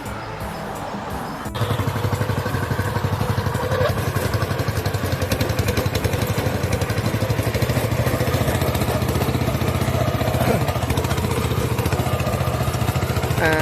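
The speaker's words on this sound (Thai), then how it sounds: "วันนี้จะพารถไถมิซูบิชินะครับ มาพวนนะครับ" A 7 hp Mitsubishi mini tractor engine starts up and settles into a loud, steady, rapid chugging run with mechanical clatter, close by and without talk.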